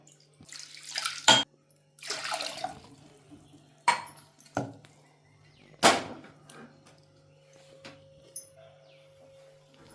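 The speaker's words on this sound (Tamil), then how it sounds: "ரெண்டு கிளாஸ் தண்ணி ஊற்றி வேக வைப்போம்" Water splashes and pours in several short bursts into a pressure cooker holding washed split mung dal, with a faint steady hum in the background and no talking.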